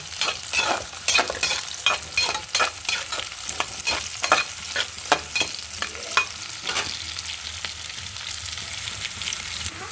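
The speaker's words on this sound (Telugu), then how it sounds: "ఒకసారి తిప్పు" Onions and drumsticks frying in a pan while being stirred, a rhythmic run of sharp spatula scrapes and knocks over a constant sizzle that settles into steady frying near the end.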